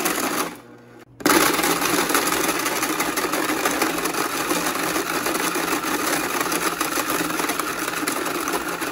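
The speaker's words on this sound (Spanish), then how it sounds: "raspar el hielo" A homemade raspado ice shaver scrapes ice in a loud, dense, continuous grinding rattle that starts abruptly after a short pause and keeps going steadily to the end.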